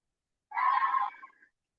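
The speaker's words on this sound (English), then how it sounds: "Yep, that's the Wampus cat." One purported Wampus cat call, a single strained, moaning yowl about a second long that fades at the end, heard alone against silence.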